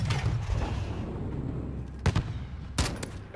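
A grenade explosion in Call of Duty Modern Warfare (2019) during a night battle at an embassy, where a few sharp blasts and booms break through a rumble of distant gunfire.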